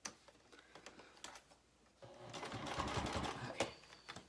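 A sewing machine back stitches across a zipper pouch seam in short, fast bursts of needle clatter, quiet at first, then a denser, louder run of stitching near the end.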